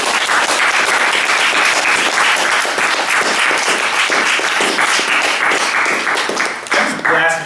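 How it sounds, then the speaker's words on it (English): Art university students in a lecture audience give a big round of applause, loud and dense, sustained throughout with a brief dip near the end. "Or a big clap."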